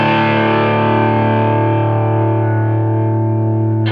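Picked electric guitar through the rhythm channel of a Megatone Vostok amp at high gain, holding one loud, thick distorted chord with heavy bottom end and long sustain for about four seconds, alone.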